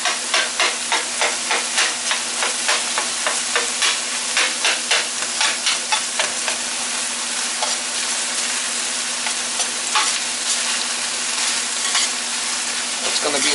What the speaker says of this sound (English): Throw the chorizo in there. It's already pre-cooked, so we're just kind of mixing it all up.